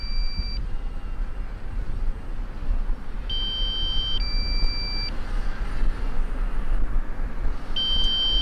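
A DJI Mavic Mini drone gives its low-battery warning: short, high electronic beeps in repeated clusters over loud, constant outdoor rumble and wind.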